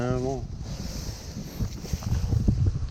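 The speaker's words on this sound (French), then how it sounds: "en ce moment on a un vent" Wind buffets the microphone in a steady low rumble throughout, with a brief voice at the start.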